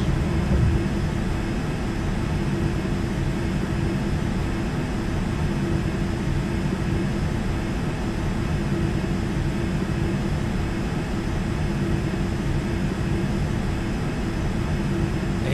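An airliner climbing after takeoff in Flight Simulator X gives a steady, loud, continuous roar of jet engines and rushing air with no break or voices.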